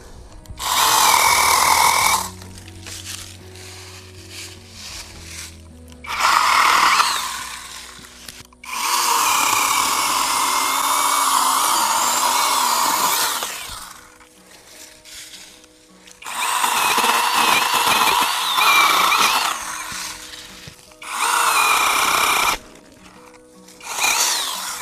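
A chainsaw cuts a tree right against a fence in repeated bursts of high revving, each run lasting a few seconds before dropping to a low idle, loud and close with no talk.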